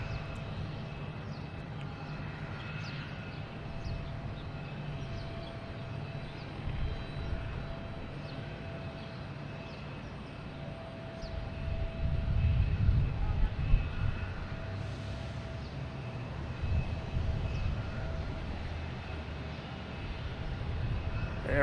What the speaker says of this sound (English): Next coming in is Aer Lingus coming in from Shannon. An A321neo.